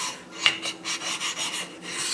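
A Japanese knife blade is rubbed back and forth on a lower-grit Japanese whetstone, producing a steady close rasping scrape in even strokes with no talking.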